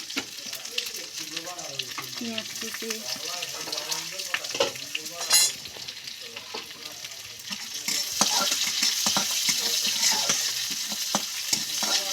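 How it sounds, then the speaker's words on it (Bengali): Dried red chilies and a bay leaf fry in oil in a pan, giving a steady sizzle with scraping stirs and clinks, growing louder and hissier toward the end. "একটু হালকা হালকা ভাজা হোক"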